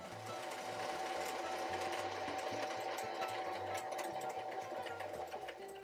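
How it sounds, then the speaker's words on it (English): A sewing machine seams fabric cover pieces together, producing a close, steady mechanical whirring hum with a rhythmic stitching pulse that continues evenly throughout. "After winding a new bobbin, I seamed all the pieces together, reinforced the seams a bit, and hemmed the bottom of the cover"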